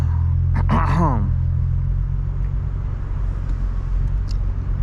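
A 900 bhp BMW M4 Competition idles with a deep, steady engine rumble, close and continuous, while a voice briefly talks over it at the start.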